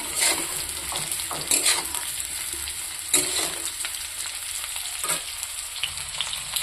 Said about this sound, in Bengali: এখন আবারও আমি দিয়ে দিচ্ছি এই যে ভাজা রাখা আলু আর কাঁচকলাটা